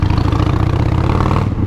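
A Harley-Davidson Seventy-Two motorcycle engine runs close by with a loud, steady, rumbling drone that holds evenly throughout the short stretch.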